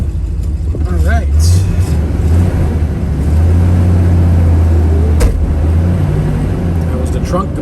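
A 1969 Chevrolet Camaro X11 with a 5-speed on a test drive produces a loud, steady low engine drone with gear-change shifts in pitch, heard from inside the car over road noise.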